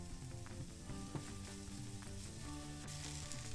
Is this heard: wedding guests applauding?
no